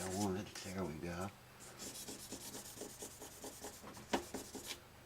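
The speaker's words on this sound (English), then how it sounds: "And now, just polishing out the fret marks." Fret marks polished out on a Martin D42 acoustic guitar fret, a soft repeated rubbing in quick short strokes close by, following a brief stretch of voice at the start.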